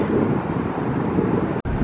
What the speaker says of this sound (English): the wind is coming from the ocean, so the ocean is being very loud